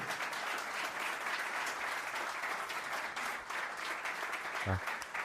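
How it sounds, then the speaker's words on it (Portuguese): Audience applause fills the room as a crowd claps steadily and evenly at moderate volume for several seconds. "Uma salva de palmas para a história toda."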